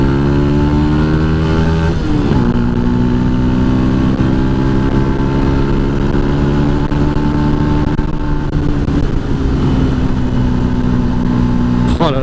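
A Yamaha MT 125 motorcycle riding and accelerating on a village road, its engine loud and close, pitch rising through gear changes in a continuous roar with wind noise.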